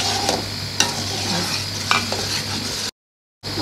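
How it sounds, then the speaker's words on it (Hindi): Chillies, salt and turmeric roast in a pan for a gobi dish, with a steady close sizzle, a few sharp scrapes from stirring, and a brief gap of silence near the end. "मसाले की भुनाई हो रही है"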